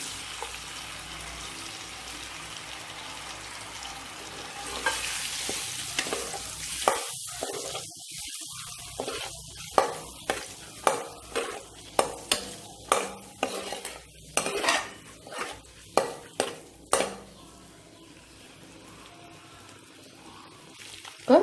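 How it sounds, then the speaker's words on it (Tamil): Scored boiled eggs frying lightly in oil in a pan: a steady sizzle runs underneath, then a close run of sharp metal spoon clinks and scrapes against the pan in a quick, uneven rhythm. "போட்டு லைட்டாக இதை நம்ம ஃப்ரை பண்ணி எடுத்துக்கலாம்."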